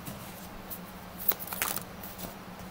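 Tarot cards riffle-shuffled in a brief, soft burst of papery flutter and snaps, close and quiet against a faint background hum.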